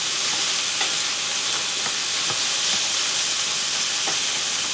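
Pork stir-fried with chopsticks in a hot pan gives a steady, close sizzling hiss broken by faint clicks and scrapes, with no talking.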